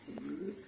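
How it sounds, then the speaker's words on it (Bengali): Golla pigeon softly cooing, a single short low coo heard faintly against a quiet background. "এই যে দেখেন গোল্লা কবুতর"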